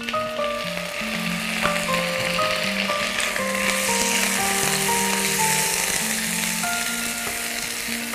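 Chicken pieces frying in a red spice base for chicken tajeen, a continuous close sizzle running under a melodic music track throughout.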